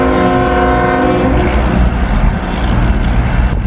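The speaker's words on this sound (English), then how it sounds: "Second train of the day." A passing train sounds its horn loudly and close by, holding a steady multi-tone blast that fades into a deep rumble of wheels and engine.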